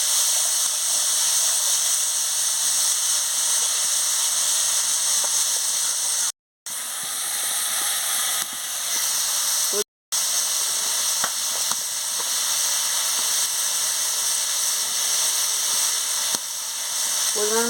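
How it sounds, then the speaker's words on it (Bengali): Chopped tomatoes sizzle and hiss steadily in a hot pan for Bengali tomato chutney, a constant frying crackle with occasional soft stirring scrapes and two brief cuts to silence. "টমাটো কুচি দিয়ে দিচ্ছি, দিয়ে ভালো করে নাড়িয়ে নিচ্ছি।"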